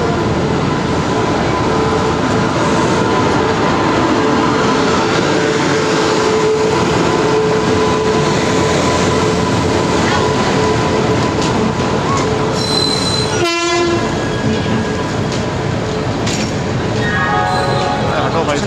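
A train pulls into a station platform, its wheels squealing and steel rumbling steadily, with a short horn-like tone near the end; a voice speaks faintly under the noise.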